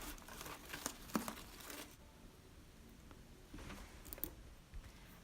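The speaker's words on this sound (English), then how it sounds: "I'm reinforcing it with a little bit of tape so that nothing tears when I go to hang it." Tape pressed over the hanging holes of a homemade paper Mickey piñata gives soft crinkling and rustling with brief tearing and tapping noises, quiet and close, in scattered bursts.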